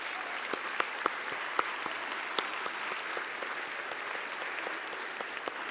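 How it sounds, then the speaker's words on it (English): An indoor audience at a fall speech event gives a sustained round of applause, a dense even patter of clapping with a few sharper claps standing out. "would you please stand for a round of applause"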